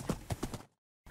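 Hooves clip-clop in a short run of about four quick beats as a horse is ridden in a live-action Minecraft parody, followed by sudden silence.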